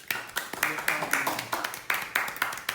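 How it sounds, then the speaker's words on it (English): A few guests applaud in a room during an African Liberation Day vegan cuisine gathering, about ten sharp separate claps in an uneven rhythm, moderately close and fairly quiet. "we applaud"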